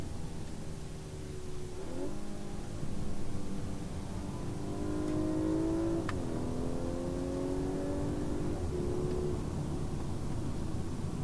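An Audi A5 Sportback B9.5 drops a couple of gears and accelerates hard. The mid-pitched engine note climbs and swells through several shifts, close and prominent over road rumble, with no talking.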